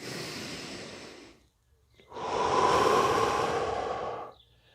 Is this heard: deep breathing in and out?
yes